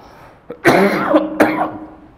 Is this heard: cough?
yes